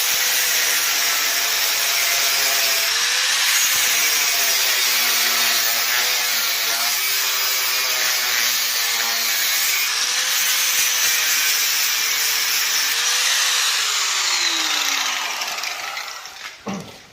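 Cutting off the back side of a broken exhaust stud, heard as a loud, sustained grinding whine whose pitch dips and wavers as the tool bites, running continuously up close before winding down.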